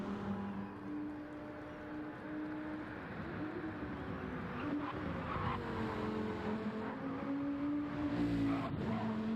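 Race cars rolling into the pit lane at an endurance round, including the ORT Dodge Viper, with a steady engine drone and shifting engine pitch plus faint tire noise throughout, fairly loud and continuous, no talk.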